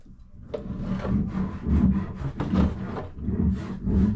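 Paint brush rubbing back and forth on wood, a repeated scratchy scrubbing in uneven strokes, close and fairly quiet, with no talk.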